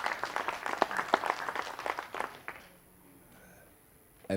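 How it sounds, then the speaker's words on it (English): Audience applause at a TADHackSA hackathon pitching session, a dense patter of clapping for about two and a half seconds that then stops abruptly and leaves a quiet room. "Ladies and gents, round of applause."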